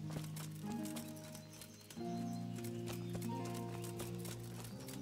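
A stolen horse's hooves clop steadily in Kingdom Come: Deliverance, a rhythmic patter of steps under sustained game music and ambience, briefly dipping before continuing at moderate loudness.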